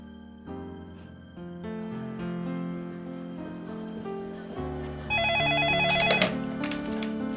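Office telephone ringing under a swelling music score in a TV drama: electronic ring tones rising above the orchestral background near the end, fairly loud.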